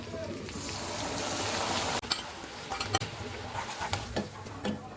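Chilli chicken sauce bubbling and sizzling in a pan, a steady hiss throughout with soft pops and spatters after a few seconds, close and fairly quiet.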